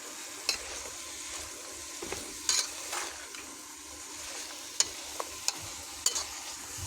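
Vegetables seasoned with salt, turmeric and chili powder are stirred in a pan, giving a steady soft sizzle broken by sharp scraping clicks of the spatula against the metal, close and fairly quiet.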